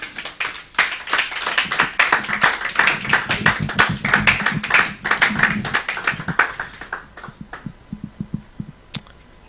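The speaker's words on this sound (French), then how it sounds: "Est-ce qu'on peut acclamer le Seigneur?" Church congregation clapping together in a fast, dense burst of applause that stays loud for several seconds, then thins into scattered single claps before ending.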